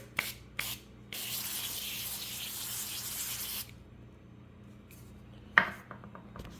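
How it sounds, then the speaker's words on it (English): Two short hisses from a sprayer of avocado oil are followed by a longer steady spray lasting about two and a half seconds. A sharp clink comes after a pause. "I'm just going to give these a quick spray."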